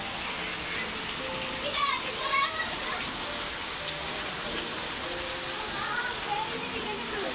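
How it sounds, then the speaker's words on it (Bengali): Heavy rain falling outside, a constant hiss of drops on surfaces throughout, with children's voices and chatter faintly audible in the background. "এখন একটু একটু কমতেছে এতক্ষণ ধরে অনেক বৃষ্টি ছিল অনেক অনেক হঠাৎ করে বৃষ্টিটা নামছে"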